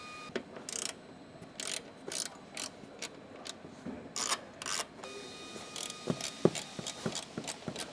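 A 10mm socket ratchet loosening the bracket bolts during a rack install on a Subaru Outback, quick bursts of clicking pawl strokes repeated in an uneven rhythm, close and fairly clear.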